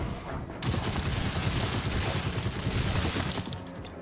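Sustained light machine gun fire in a video game, a rapid continuous burst of loud close shots starting after a short pause and rattling on for several seconds.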